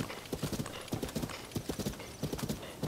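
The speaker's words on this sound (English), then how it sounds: "Oh, I love riding the horse." Steady, rhythmic clip-clop of horse hooves at a brisk gait while riding in Zelda: Tears of the Kingdom, the hoofbeats fairly loud and continuous with no talk over them.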